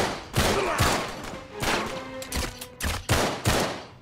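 Pistol gunshots from Uncharted 3: Drake's Deception ring out in a rapid irregular burst of about eight close, loud cracks over four seconds, with no voices.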